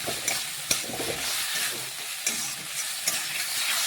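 Fried elephant-foot yam being stirred with salt and spices in a pan, giving a steady close sizzle with intermittent scraping clacks of the spoon.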